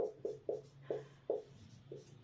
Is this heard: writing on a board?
yes